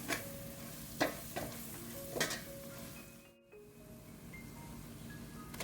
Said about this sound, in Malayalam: ഇതിലേക്ക് കുറച്ച് കുരുമുളകും പിന്നെ ഗരം മസാലയും കൂടി ഇട്ടിട്ട് നന്നായിട്ട് മിക്സ് ചെയ്ത് കൊടുക്കുന്നുണ്ട്.